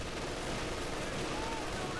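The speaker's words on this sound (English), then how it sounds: "Land mattress barrage" Land Mattress rocket barrage in the video game Company of Heroes 2: a dense, continuous roar of launches and blasts holds steady at moderate loudness for the whole stretch, with no clear gaps between impacts.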